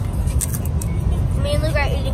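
Steady low road rumble inside a car on a road trip, a constant engine and tire drone close around the cabin, with voices talking over it.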